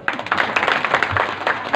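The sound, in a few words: audience clapping after bhajan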